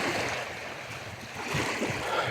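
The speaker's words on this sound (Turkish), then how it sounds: "tekrar bankta oturup denizin dalgaları sesini dinlemek istiyorum" Sea waves washing onto the shore at Yeniçiftlik on the Tekirdağ coast, a steady broadband wash with soft surges, heard alone without voices.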